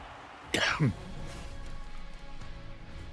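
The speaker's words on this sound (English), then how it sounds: "Sorry about the coughing." A person coughs once or twice in a short, rough burst up close, then quiet room tone follows.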